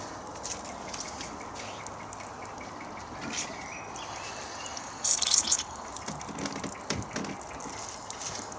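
Water drips and drains from a wet hide, a soft steady trickle with a brief louder gush of splashing runoff midway and scattered drops afterward, no talk.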